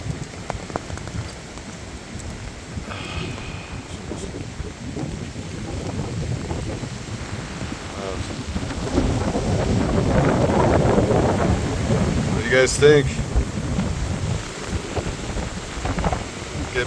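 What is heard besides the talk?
thunderstorm outdoors on Mt. Davidson, San Francisco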